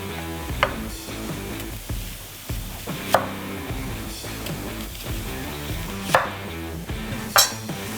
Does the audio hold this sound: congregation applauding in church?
no